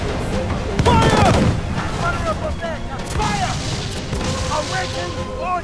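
Ship cannons fire in a naval battle in Assassin's Creed IV: Black Flag, heavy booming volleys going off in rapid succession over roaring ambience, with crew voices shouting throughout.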